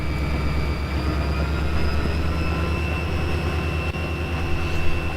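A locomotive rolls along steadily in the Trainz railway simulator game with a constant low engine rumble and tonal hum, close and even throughout with no talk.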